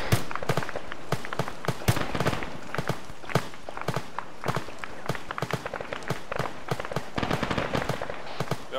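Rapid gunfire from the video game ArmA 3 crackles in dense, irregular bursts of sharp shots, some near and punchy, others more distant, continuing throughout without voices.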